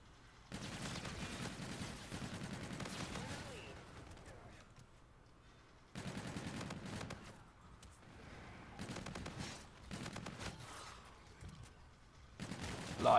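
Rapid automatic gunfire from the K-bar in the video game Infinite Warfare, fired in several sustained bursts separated by short pauses, loud and close.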